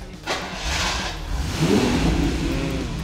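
A car engine turns over, then revs up and holds a loud, rising roar at close range, with no voices.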